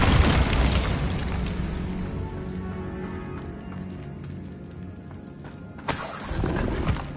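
A Bombarda blasting spell explodes in Hogwarts Legacy with a loud, sharp burst that decays slowly into a lingering rumble, followed by a second, smaller crack-like blast near the end.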